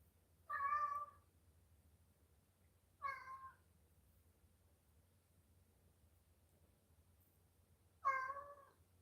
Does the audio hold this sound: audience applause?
no